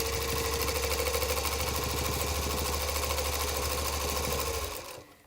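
A sewing machine stitching through a quilt runs in a fast, steady whirring rattle, loud and close, then slows and stops near the end.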